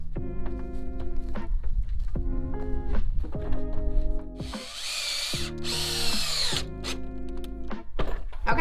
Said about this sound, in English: as you're driving the screws